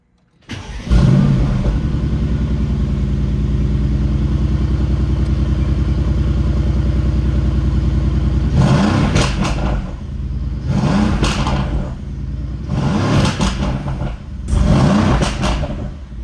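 A Mercedes-AMG GT 4.0L biturbo V8 engine, freshly ECU-tuned, cranks and fires, idles steadily with a deep rumble, then is revved hard several times in quick bursts, close and loud.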